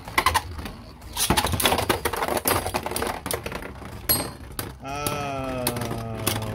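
Beyblade Burst tops, Belfyre against Magma Ifrit, launched and clashing in a stadium: a burst of sharp clattering hits and rattling spins, then a steady whirring hum toward the end, loud and close.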